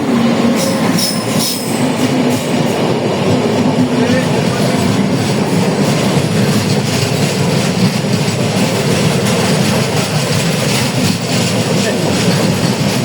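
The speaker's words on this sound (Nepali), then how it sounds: "यो भर्खरै अर्को ट्रेन आयो होइन" An Indian Railways train rumbles steadily past nearby, wheels clattering and squealing on the rails in a continuous loud roar, with faint voices underneath.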